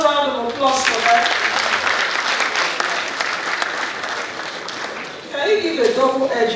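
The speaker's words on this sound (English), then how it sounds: "Please, another round of applause for that." Conference audience at an African emerging markets event applauds in a sustained wave of clapping, with talking heard before and after the clapping.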